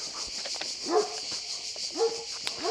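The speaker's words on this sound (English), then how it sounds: "Yeah, they're dogs." Several dogs bark and yip at a distance across a lush green hillside at Cogoletto, short scattered barks and whimpers over a constant buzz of cicadas.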